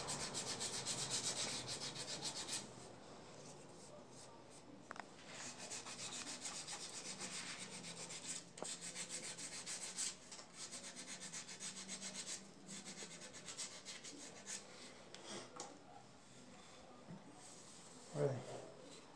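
Sandpaper rubs over a hand-carved wooden Christ figure in soft, faint strokes with uneven rhythm, close by, and someone talks quietly at times.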